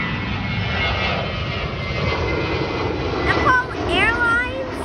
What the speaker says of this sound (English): You can hear the plane. Can you hear the engines?